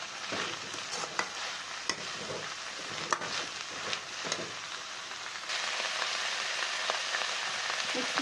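Drumstick leaves palya is stirred in a pan over onions, a steady hissing sizzle with scraping stir strokes and small clicks that grows slightly louder and denser toward the end.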